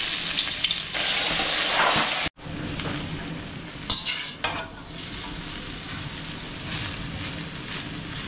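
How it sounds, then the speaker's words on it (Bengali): Noodles frying in a pan at home, a dense continuous sizzle with stirring scrapes, briefly cut off for a moment then resuming steadily close by. "এখন আব্বু নুডলসটা রান্না করতেছে"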